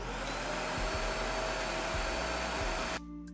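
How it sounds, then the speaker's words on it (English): A household vacuum cleaner runs with a loud, steady motor whine and rushing airflow that cuts off sharply near the end, leaving quiet. "now flip the vacuum to on"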